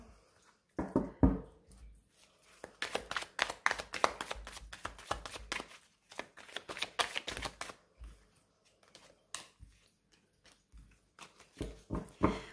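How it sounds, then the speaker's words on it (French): Tarot cards are shuffled and drawn close by, in quick rustling, riffling bursts separated by short quiet gaps, with crisp slaps of cards laid down. "Je vais tirer quelques cartes avec le tarot"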